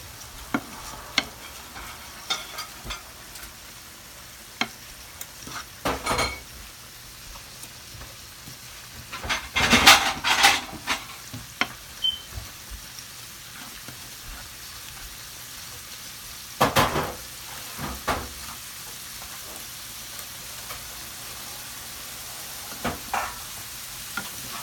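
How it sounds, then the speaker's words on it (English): A spoon stirs cauliflower rice sizzling in a hot pan, a steady frying hiss broken by a few loud bursts of scraping and clattering, close up and with no voices. "I'm going to ask my daughter to go ahead and stir this cauliflower"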